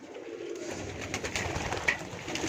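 A pigeon coos softly close by, low murmuring calls over a busy, noisy background with no talking.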